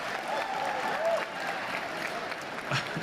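Crowd applause at a live PlayStation event following the Final Fantasy VII Remake announcement, a steady wash of clapping and cheering sustained throughout with a faint voice underneath.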